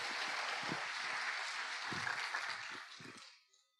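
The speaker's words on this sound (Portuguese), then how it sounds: "Você pode aplaudir a Jesus e glorificá-lo?" A church congregation applauding at an evening leadership conference, a steady wash of many hands clapping, moderately distant, tapering off at the close.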